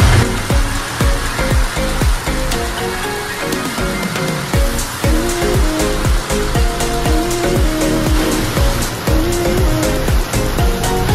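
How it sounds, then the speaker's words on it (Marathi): Heavy monsoon rain pours down steadily at a farmhouse in Karjat, a loud, dense, continuous hiss with spattering drops on surfaces, no talking heard. "हा बघा जोरात आला पाऊस परत."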